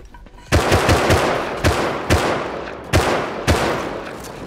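Heavy gunfire in the survival game Rust rings out as a series of loud, booming shots, about eight in all, spaced unevenly with rapid pairs and longer gaps, each one decaying into a rumbling echo, with no talking.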